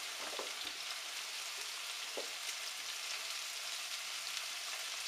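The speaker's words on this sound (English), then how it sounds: "start sauteing them up" Vegetables sauteing in a pan for Spanish rice, a soft continuous sizzle and crackle heard close up with a couple of light stirring knocks near the start.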